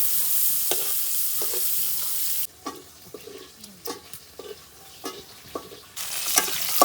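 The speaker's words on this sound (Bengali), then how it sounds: "এই তো বাগানের লেগে তেল গেল, গেল শুকনা মরিচ, এখন যাবে হলো পেঁয়াজ" Oil with dried chillies and onions fries in a pan for rustic village-style Bengali cooking, giving a steady hiss that drops away to close scraping and stirring clacks, then sizzles up again.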